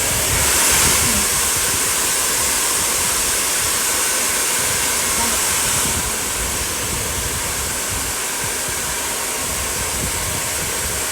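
Hair dryer blasting warm air onto hair, a loud continuous whooshing roar held close throughout, slightly easing in strength partway.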